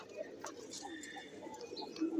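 A Bezi-line pigeon from a poultry tournament coos softly and low in the background.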